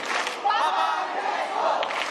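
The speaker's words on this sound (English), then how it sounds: "Shall we do one more cheer with the Papa Francesco?" A large crowd of young people at a Catholic Junior College in Singapore cheers loudly for the Pope, a sustained roar of many voices with shouting, steady and close throughout.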